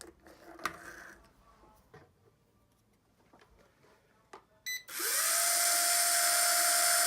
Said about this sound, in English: I tried to turn it on without propellers on